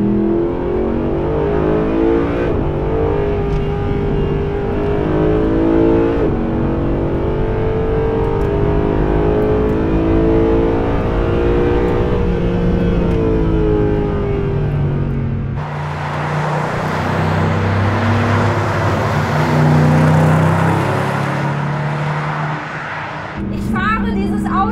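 A Mercedes sports car, a 300SL or SLS Black Series, revs and accelerates hard on a track, its engine loud and rising in pitch through gear changes, heard from the cabin with someone talking over it.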